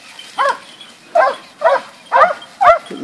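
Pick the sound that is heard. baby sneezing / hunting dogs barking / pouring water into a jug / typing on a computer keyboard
hunting dogs barking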